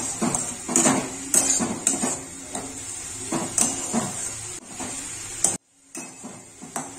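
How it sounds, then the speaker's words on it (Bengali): Chopped onion is stirred and fried in a pan with a little oil for an egg curry: repeated close scraping and clinking of a spatula over a soft sizzle, stopping briefly near the end. "এবারে এই পেঁয়াজ কুচিটাকে একটু নাড়িয়ে চাড়িয়ে ভাজা ভাজা করে নেব।"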